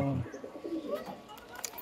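A pigeon in a cage coos briefly and softly up close at the start, followed by faint rustling and light chirps.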